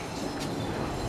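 A Takasaki Line local train on a through service to Takasaki pulls into a Japanese station platform, its steady rolling rumble and wheel noise filling the scene at close range with no talk.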